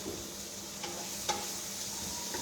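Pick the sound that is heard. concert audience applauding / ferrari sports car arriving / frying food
frying food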